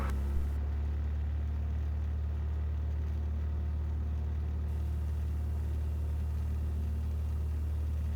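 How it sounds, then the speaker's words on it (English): Steady low rumble of a Cessna's piston engine at full power on the takeoff roll from runway 2, a continuous loud drone heard from inside the cabin with no talk. "Cessna 1549 Yankee, taking off runway 2, it'll be a southbound departure"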